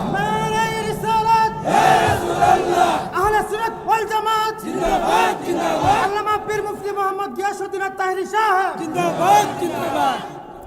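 Large outdoor rally crowd of thousands shouting a religious chant in unison, a loud massed roar of voices rising and falling in repeated waves throughout.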